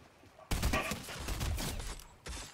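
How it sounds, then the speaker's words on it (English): Gunfire in the video game Fortnite: a dense cluster of loud, rapid shots begins abruptly, rattles on for about two seconds, and then a final burst follows after a brief gap, with no talk over it. "let me shoot him a little bit for you"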